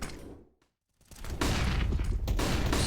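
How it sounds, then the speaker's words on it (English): Grenades exchanged in a CS:GO match during a BLAST Premier semi-final: a burst of explosive blasts and rattling gunfire builds into loud, dense, sustained crackle after a short quiet gap. "Some nades being exchanged and a little bit of an explosion"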